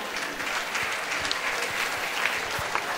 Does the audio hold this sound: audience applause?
yes